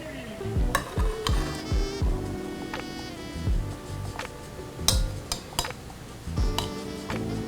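Cooked ribs are tossed and turned in a pan of sauce, with repeated clacks of tongs against the pan over soft, wet stirring and a faint sizzle.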